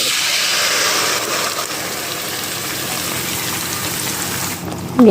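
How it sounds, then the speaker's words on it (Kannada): Water pours steadily into a pan of onion, garlic and masala with a continuous splashing rush, fairly close, ending with a brief clatter. "ಇದಕ್ಕೆ ಜಾರಿಗೆ ನೀರು ಹಾಕಿ ಹಾಕಿಕೊಳ್ಬೇಕು"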